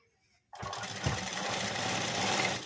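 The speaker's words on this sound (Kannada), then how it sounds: "ಇದನ್ನು ಒಂದು ಸೈಡ್ ಇಟ್ಟು ಕರೆಕ್ಟಾಗಿಟ್ಟು ಸ್ಟಿಚ್ ಮಾಡ್ಕೋಬೇಕು" An electric sewing machine starts after a brief silence and runs steadily, a close, continuous whirring hum of stitching fabric for dori work that holds even to the end.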